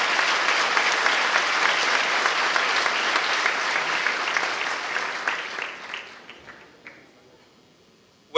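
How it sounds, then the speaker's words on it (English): Applause from an audience at the opening ceremony of the Ritz-Carlton Aruba, a dense, steady wash of clapping that carries for several seconds, then thins out and fades to near silence at the end. "Hand of applause for his family present here today."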